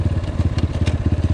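A 2021 GPX FSE 250 motorcycle engine runs steadily up close, its single-cylinder idle thumping in a fast, even pulse with a rough, clattery edge and no voices.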